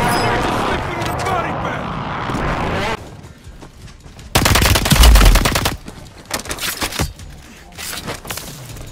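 Gunfire in a Call of Duty multiplayer match, with bursts of loud automatic fire and sharp shots mixed with game sounds and a voice, one heavy close burst standing out midway.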